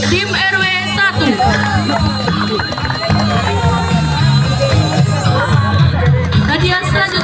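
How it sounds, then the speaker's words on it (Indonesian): Crowd at a football tournament closing ceremony applauding and cheering for team RW 1, loud continuous clapping and shouts with music and an amplified voice running underneath. "Beri tepuk tangan yang meriah untuk tim RW 1."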